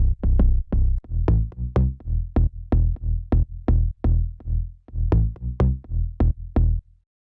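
A main bass layer with a little low-end boost, playing a steady rhythmic line of loud, punchy pitched notes with sharp attacks and a deep sustained low end, heard alone with no voices.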